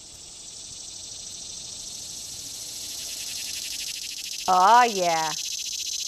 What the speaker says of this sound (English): Yeah, let's hear the cicada.